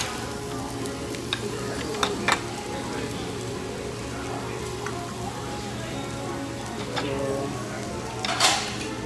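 Marinated chicken and beef tocino grilling at a Korean BBQ restaurant in Berjaya Times Square, Kuala Lumpur, a continuous sizzle with scattered clinks of utensils and a low hum of diners and background chatter.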